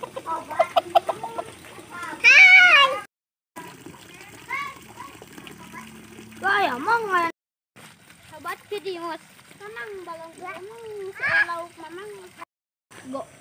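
Chickens cluck in a village chicken coop in rural Garut, giving loud nearby calls and squawks between stretches of people talking, with children's voices also audible.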